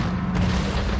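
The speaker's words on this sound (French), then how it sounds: "C'est le bruit des explosions" A deep, rumbling boom from explosions in the strategy game Panzer Corps during the 1939 Westerplatte battle, dense and continuous with no clear separate blasts.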